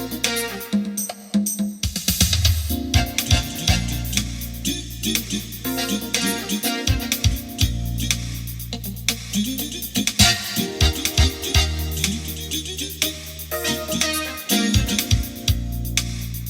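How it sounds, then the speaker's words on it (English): A Roland VA-76 arranger keyboard emulating a Roland D20 funk sound, playing a busy, punchy groove with sustained bass notes and rhythmic stabs, loud and continuous with no voices. "That right there, what you're hearing is a D20 funk."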